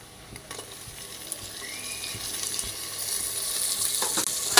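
Tomatoes are tipped into onions frying in a pan until pink, and a steady broadband sizzle builds and grows louder over a few seconds, with faint stirring clicks and no voices.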